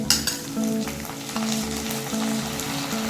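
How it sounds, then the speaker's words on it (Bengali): Ginger garlic paste goes into hot oil with well-fried onions while mutton curry is prepared, giving a steady close sizzle with a rhythmic stirring scrape repeating throughout. "এদিকে পেঁয়াজটাও খুব ভালোভাবে ভাজা হয়ে গেছে দিয়ে দেবো দু টেবিল চামচ আদা রসুনের পেস্ট"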